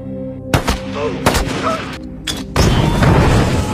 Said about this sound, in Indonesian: Tapi belum sempat apa-apa, datang sebuah tembakan.